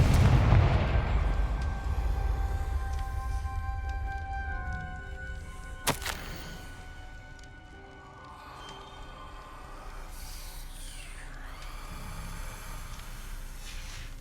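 A Confringo fire spell from the Hogwarts Legacy video game lets out a single sharp blast over a dense, rumbling game soundscape that swells and then fades into a steady background roar.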